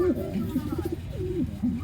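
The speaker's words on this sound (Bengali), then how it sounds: "এটা হচ্ছে ওর মাটা, কবুতরের মা।" A mother pigeon close by gives several soft, repeated coos beside her young chicks, and a person talks over them.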